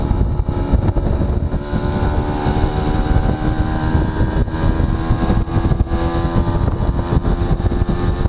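A tractor engine rumbles past steadily along a rural Dutch road, a continuous loud drone with wind buffeting the microphone and no one talking.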